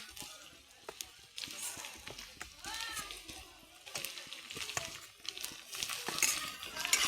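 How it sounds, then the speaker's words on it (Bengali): Garlic and ginger paste being stirred into hot oil with green chillies, a spoon scraping and clinking against the pan in irregular strokes over a faint sizzle, close and moderately loud throughout. "রসুন বাটা দিয়ে তেলের মধ্যে মিশিয়ে নিছি"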